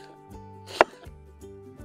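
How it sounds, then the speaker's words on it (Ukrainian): A single sharp knife chop through an onion on a board, cutting it into half-rings for a dish cooked in a cauldron over a campfire, a short crisp hit heard close and alone against a quiet background. "Цибуля нарізається на півкільця."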